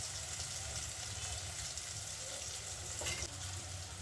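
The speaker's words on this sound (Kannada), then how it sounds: "ಶುಂಠಿ ಮತ್ತು ಬೆಳ್ಳುಳ್ಳಿ ಎರಡನ್ನೂ ಕೂಡ ಪೇಸ್ಟ್ ಮಾಡಿ ಇಟ್ಕೊಂಡಿದ್ವಲ್ಲ ಅದನ್ನು ಕೂಡ ಇವಾಗ ಹಾಕೋತಾ ಇದ್ದೀನಿ" Ginger-garlic paste fries with tomatoes in a pan for a paneer sukka, giving a steady, close sizzle and crackle with light stirring and no voices.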